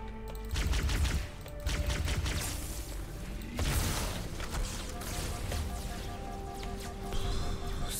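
Dense gunfire in Halo 2 on Legendary difficulty, with rapid overlapping shots and whooshes layered over game music and effects, loud and continuous with a burst around the middle.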